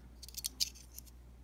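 Scissors snip a few times in quick succession, short crisp bright clicks close up in an otherwise quiet setting.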